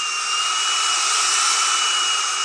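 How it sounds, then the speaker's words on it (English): A belt sander grinding paint off a shingle laid on a table, a loud, steady, high-pitched whine with a broad abrasive hiss that holds unbroken throughout, close up, with no voices. "We're sanding off a good portion of it with the belt sander."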